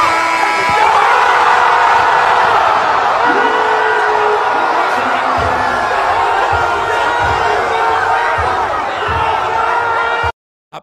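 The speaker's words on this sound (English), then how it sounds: "Everybody screamed." A packed arena crowd at a Knicks basketball game screams and cheers in a loud, sustained roar with whoops and slaps, cutting off abruptly at the end.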